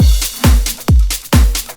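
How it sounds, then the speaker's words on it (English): Four deep, punchy kick drum hits land evenly on each beat, each with a booming low thump and a short decay, played alone. "This is what the kick drum would sound like if it was on every single beat."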